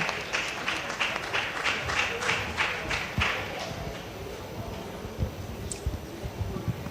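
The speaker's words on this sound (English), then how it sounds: "Please let the applause keep going till she gets to the microphone." Conference audience applauding a panel speaker as she walks to the microphone, rapid crowd clapping that starts strong and gradually thins and fades into room noise with a few stray claps.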